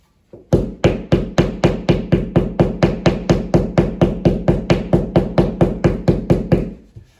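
A drywall knife taps protruding nails into a sheetrock wall, delivering about two dozen sharp, evenly spaced knocks in a steady rhythm, loud and close with no talking.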